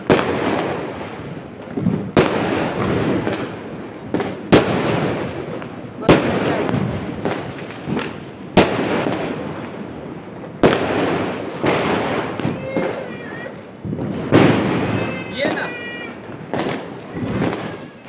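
Diwali fireworks and firecrackers go off in sharp separate bangs every couple of seconds, some near and loud, others farther off, with crackling and faint whistles between them; a cat meows briefly in the background.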